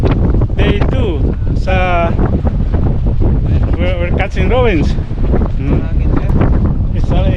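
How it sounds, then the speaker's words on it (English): Strong wind buffets the microphone on a boat at sea off Bermuda, a loud continuous rumble that runs throughout while someone talks over it. "It's a little bit windy today"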